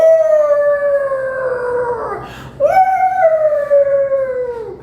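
Dog howling, a long sustained wail that slides downward, breaks off, then rises into a second drawn-out howl that sinks again, loud and close with no speech.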